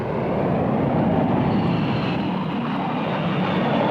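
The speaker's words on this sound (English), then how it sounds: "The J-29 was powered by de Havilland Ghost turbojet engine." Saab J-29 jet fighter powered by a de Havilland Ghost turbojet, a steady, loud, broadband jet roar that holds evenly throughout without pause.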